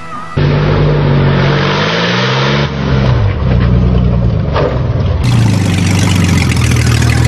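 A Mercury Sable's engine revs hard and accelerates, loud and close, with a brief dip in the middle before climbing again to a strained roar.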